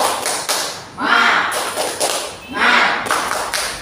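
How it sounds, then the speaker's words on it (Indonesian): A group performs the 'tepuk semangat' spirit clap, sharp close claps landing in rhythmic bursts with short gaps between them, with voices mixed in. "Satu kali lagi tepuk semangat."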